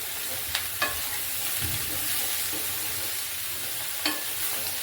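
Mushrooms and vegetables fry in a pan for a chicken dish, a soft continuous sizzle broken by a few sharp scrapes and stirs of a utensil, close and moderately quiet with no talk.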